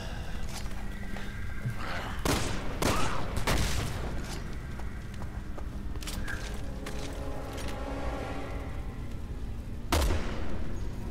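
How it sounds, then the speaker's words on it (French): Gunfire from shooting at enemies' weak points in Resident Evil 6, several sharp shots scattered amid a dense background of game noise and explosions, with a loud burst near the end. "je fais des tirs dans les points faibles"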